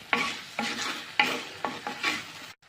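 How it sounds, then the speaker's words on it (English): Dried turkey berries and black nightshade berries are sautéed in a pan, with about six rhythmic stirring strokes over a soft sizzle, close and fairly loud, ending abruptly. "Then saute well."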